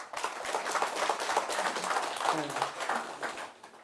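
Audience clapping at a community town-hall meeting, a fairly quiet, uneven patter of hands with a few people murmuring underneath.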